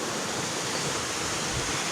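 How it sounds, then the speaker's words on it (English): Top River Waterfall in the Tobago rain forest pours with a steady, dense roar of falling water, constant and fairly close, with no voices over it. "Top River Waterfall."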